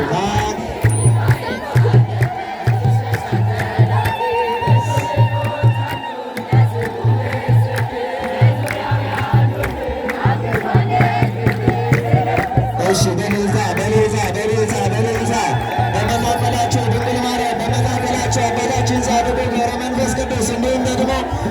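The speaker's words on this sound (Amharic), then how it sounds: "እልል ብላችሁ እግዚአብሔርን አመስግኑት" Church congregation at a Lideta Maryam celebration ululates in praise, high trilling voices rising together over crowd murmur, loud and sustained with rhythmic pulses throughout.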